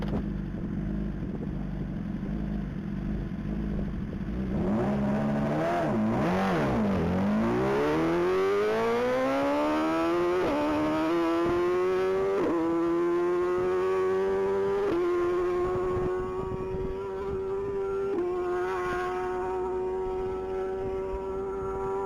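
A 2022 BMW S1000RR sport bike screams at full throttle down a one-mile top-speed course, its engine note climbing steadily with sharp upshifts before holding a high, sustained wail, loud and continuous with no talking.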